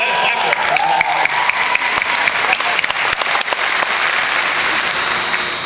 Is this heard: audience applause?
yes